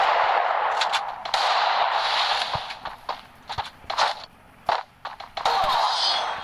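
Gunfire from the video game Free Fire during a one-on-one fight: a steady spray of shots for the first few seconds, then scattered single bursts and pauses, loud and close, with no talking.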